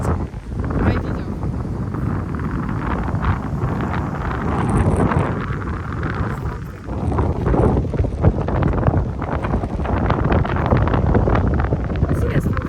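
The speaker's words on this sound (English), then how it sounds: "No, it's not cold, but crazy windy." Strong wind buffets the microphone at an ocean beach, a loud, continuous roaring rumble that barely lets up, with a voice talking faintly underneath.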